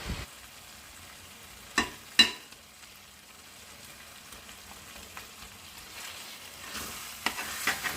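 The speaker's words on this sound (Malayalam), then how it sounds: "കറി ഒന്ന് നന്നായി ഇളക്കി യോജിപ്പിക്കുക" Pepper chicken curry with garam masala being stirred in a pan, a soft steady sizzle with a few sharp spoon scrapes and knocks near the start and end.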